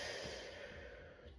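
A steady, breathy exhale during a pelvic floor exercise, soft and close, lasting the whole moment without any talking over it.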